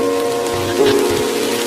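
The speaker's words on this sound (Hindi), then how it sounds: "बाहर बारिश बहुत तेज हो रही है" Heavy rain pours steadily outside at night, a dense continuous hiss with a faint low rumble underneath, no voices.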